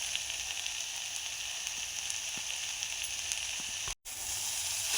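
Vegetables and spices, including homemade garam masala, fry in oil for a hotel-style vegetable pulao, giving a steady, close crackling sizzle with scattered pops and a brief dropout near the end.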